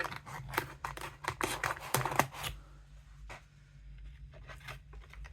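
Rapid crisp snips of scissors cutting, a dense burst of closely spaced cuts followed by a few quieter, sparser snips.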